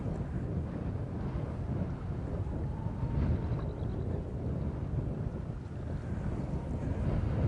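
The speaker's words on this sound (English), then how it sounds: "when you fish in hard, strong wind like this" Strong wind buffeting the microphone while fly fishing, a continuous loud low rumble and roar that stays steady, with no voices.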